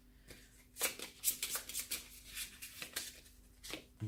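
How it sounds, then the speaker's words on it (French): Two cards drawn from the deck in the card game Shadowrun Crossfire, a run of close, quiet papery slides and flicks on a tabletop, with no talk. "Je pioche 2 cartes."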